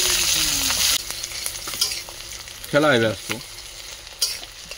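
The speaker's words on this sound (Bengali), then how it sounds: "পেঁয়াজ কুচিগুলোকে দিয়ে একটু ভালোভাবে নেড়ে চেড়ে ভেজে নিতে হবে" Chopped onion fries loudly in mustard oil and is stirred with scraping strokes, the sizzle strongest at first; a brief voice-like tone cuts in midway.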